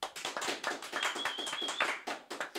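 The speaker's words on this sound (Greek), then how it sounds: "Χειροκρότημα πάλι." Podcast studio audience applauding, a brisk patter of hand claps lasting a couple of seconds, close and fairly loud, with no talking.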